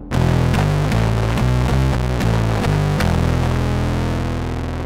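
Bass guitar run through a Wren and Cuff Pickle Pie fuzz pedal set to a blended mix, a loud sustained fuzzy riff of repeated picked notes with sharp attacks, played alone and close.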